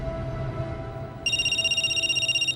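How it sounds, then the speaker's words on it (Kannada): A mobile phone ringtone rings as a story sound effect, a bright electronic trill pulsing rapidly for over a second, entering over a low steady background hum. "ಅವನ್ ಫೋನ್ ರಿಂಗ್ ಆಯ್ತು"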